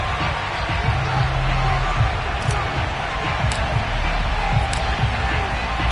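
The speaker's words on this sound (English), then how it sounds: "this crowd is ready to go" A football stadium crowd at FedEx Field roars in a steady, distant wash of cheering and whoops, continuous throughout with no clear peaks.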